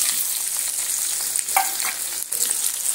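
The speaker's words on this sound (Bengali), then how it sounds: "পেঁয়াজটা আমি তেলের মধ্যে দিয়ে দিচ্ছি।" Finely sliced onions, about 300 grams, frying in hot oil for a potato and egg curry: a loud, close, continuous bright sizzle with stirring scrapes and a brief dip partway through, no speech.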